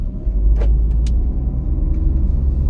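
Car engine accelerating during a driving lesson on a hilly ghat road, a loud steady low rumble from inside the cabin with a couple of brief clicks, no talking.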